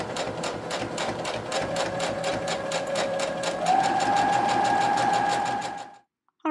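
A sewing machine stitches a shirt front slit with a rapid, even needle rhythm, close and clear, its motor tone rising slightly midway before stopping abruptly near the end.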